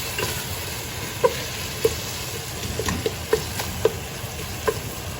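Italian meat sauce sizzling steadily in the pot as it is brought to a braise, with a spoon stirring and clinking against the pot at regular intervals, close and fairly loud.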